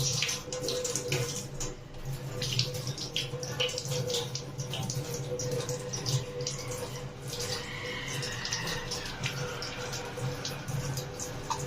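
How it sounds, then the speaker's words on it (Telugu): Jamun leaves are rinsed under a running kitchen tap, a steady close splash and trickle of water that continues without a break and without any talking. "కొన్ని తీసుకున్నాక నీట్గా వాష్ చేసుకోవాలి ఫ్రెండ్స్."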